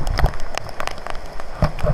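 Heavy typhoon rain and wind along a highway in Taiwan, a short burst of dense pattering and spattering with uneven gusty swells, close and fairly loud.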